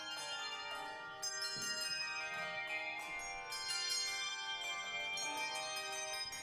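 Bright, ringing handbell tones from an ensemble sound in a steady flowing melody, many overlapping notes sustaining and chiming together with no voices.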